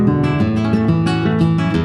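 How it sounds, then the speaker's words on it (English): A bright nylon-string flamenco guitar plays a quick rolling arpeggio, about a dozen crisp plucked notes in steady succession, close and fairly loud. "Here's how this arpeggio sounds."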